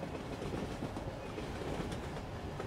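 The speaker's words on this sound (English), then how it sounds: "The sound of the train heals your mind as it picks up speed." A train pulls away from a station and gathers speed, its steady broadband rumble and faint clickety-clack of wheels on rails running continuously at a constant, fairly loud level with no voices.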